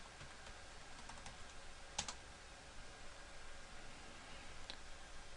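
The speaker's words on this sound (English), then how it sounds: "type in your username and password" Someone types a username and password on a computer keyboard in a quiet room, with soft, irregular key clicks, one sharper tap standing out, all faint against a steady background hiss.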